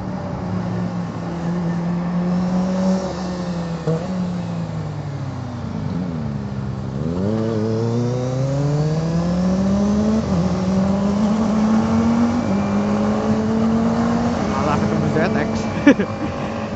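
A Yamaha MT15 street fighter motorcycle with upside-down front suspension being ridden, its engine droning steadily and rising and falling in pitch as it revs through gears, heard continuously under a rider's spoken commentary.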